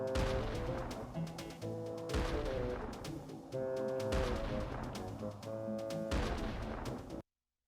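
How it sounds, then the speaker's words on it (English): Cannons firing in the SpongeBob SquarePants: Battle for Bikini Bottom video game, a run of loud booming blasts at a steady rhythm over repeating game music, with no talking. "bubble bounce on top of this thing to activate the cannons"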